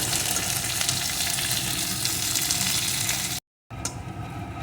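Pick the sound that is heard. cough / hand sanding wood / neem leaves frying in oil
neem leaves frying in oil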